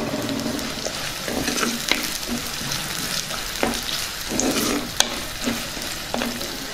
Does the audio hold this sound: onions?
yes